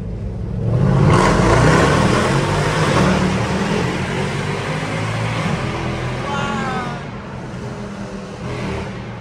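A Mercedes C63 Brabus with a full straight-through exhaust accelerates hard from inside the cabin, its loud, raspy engine roar building and holding, then easing slightly near the end as a voice speaks briefly over it.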